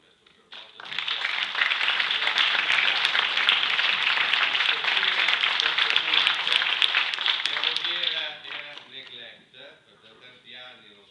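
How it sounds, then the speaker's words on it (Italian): An indoor theatre audience at a classical music concert in Voghera applauds maestro Carbot: dense, steady clapping builds within a second, holds loud for about seven seconds, then thins into scattered claps as a voice begins speaking. "Io tributerei un applauso al maestro Carbot."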